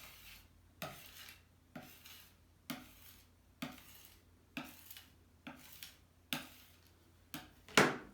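Akua printmaking ink is scraped off a roller in repeated short scratchy strokes, roughly one per second, close and fairly faint with no talk.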